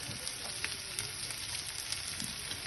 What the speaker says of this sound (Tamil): இந்த வெங்காயம் கொஞ்சம் கோல்டன் கலரா வதங்க விடுவோம் நாங்கள்